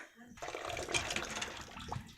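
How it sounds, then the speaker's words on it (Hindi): Water gushes from a hand-operated household hand pump in a village house, a steady close splashing rush that starts abruptly and continues, with a voice speaking faintly underneath. "काफ़ी देर चलाने के बाद इसमें से पानी निकल रहा है अब"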